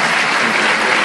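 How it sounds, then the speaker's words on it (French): Dense, loud applause from a comedy show audience at the Mawazine festival, a continuous wash of many hands clapping together with no voices rising above it. "plaisir d'entendre des applaudissements, très sincèrement"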